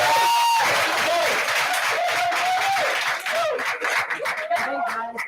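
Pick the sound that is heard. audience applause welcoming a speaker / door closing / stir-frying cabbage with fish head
audience applause welcoming a speaker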